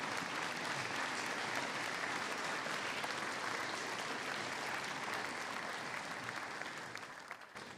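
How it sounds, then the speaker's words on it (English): An audience at a school prize day gives a long, even round of applause for athletic award recipients, the clapping holding steady before fading toward the end. "One more round of applause for these Athletic A recipients."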